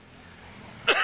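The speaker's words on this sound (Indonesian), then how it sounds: "saya batuk bukan karena yang lain ya, ini karena batuk karena hawanya aja dingin" A person coughs once, short and close, near the end of a quiet moment, a single rough burst in chilly night air.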